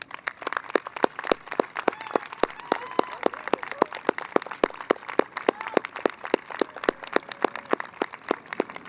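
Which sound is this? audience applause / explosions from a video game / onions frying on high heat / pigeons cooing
audience applause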